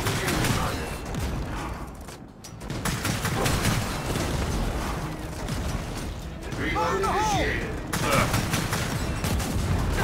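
Dense bursts of gunfire and explosions from the video game Gears of War 4 pound continuously in a loud, busy mix of shots and booms, with a voice talking over the action.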